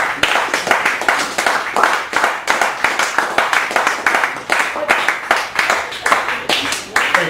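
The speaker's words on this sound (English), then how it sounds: "everybody give a round of applause for Andre Lenoche" A small cafe audience at the Cafe Gallery in Chicago applauds a poet with close, brisk hand clapping that pulses unevenly throughout, with a few voices mixed in.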